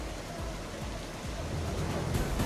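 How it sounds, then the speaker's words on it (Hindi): Torrential rain pours over flooded streets in Sikar, a steady dense hiss with low rushing rumble, continuous and fairly loud without pause. "सीकर में मूसलाधार बारिश, सड़कें बनी सैलाब"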